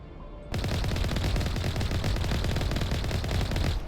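Rapid automatic gunfire from the Mass Effect 1 video game breaks out abruptly and continues as a dense, loud, unbroken stream of shots for several seconds before cutting off.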